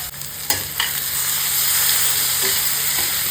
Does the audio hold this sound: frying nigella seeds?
yes